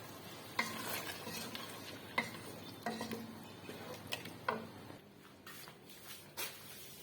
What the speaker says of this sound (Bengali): আমার বিরিয়ানি ফ্রাই গরম করা হয়ে গেছে।